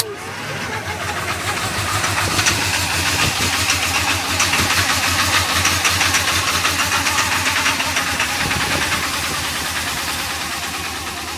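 A 7.3L Powerstroke diesel with 280,000 miles cranks and cold-starts at minus 38 degrees, then settles into a loud, close, rough idle with a steady knocking clatter that continues to the end.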